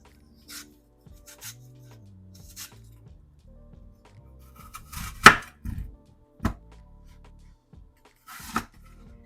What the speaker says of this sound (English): Let's start by peeling the apples into long, even strips